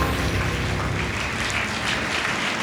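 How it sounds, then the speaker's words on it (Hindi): Audience applause fills a community gathering hall, a steady dense wash of clapping from many hands that holds at an even level throughout. "तालियां रुक गई है, तालियां बजनी चाहिए।"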